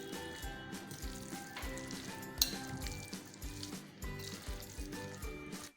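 Minced keema being stirred in a hot pan with two medium tomatoes and ginger-garlic paste for Lahori keema, a steady sizzle of frying with rhythmic scraping and stirring close up, no talk.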